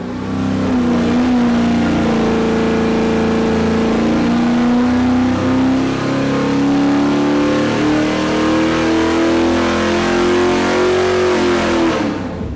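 A brand-new, untouched crate engine on a dyno during a pull, revving loud and close with a strong droning tone that climbs slowly and steadily over about twelve seconds, with no voices.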